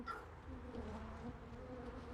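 Honeybees in a beehive being covered for winter, a low, even hum of many wings droning steadily, faint and muffled, without voices.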